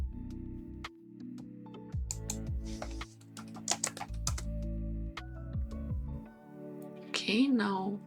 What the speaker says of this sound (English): So let's type it out manually.